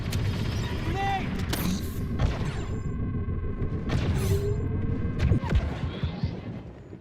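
A grenade goes off in Star Wars Battlefront II amid battle noise: several sharp, heavy booms and crashes with a rumbling tail, and voices talk over the din.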